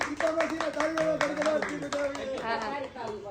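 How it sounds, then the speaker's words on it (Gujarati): A group of people claps hands at a relatives' home during a family gathering, scattered rhythmic claps mixed with excited voices talking and cheering over them. "તાળી પાડો બધા, તાળી પાડો."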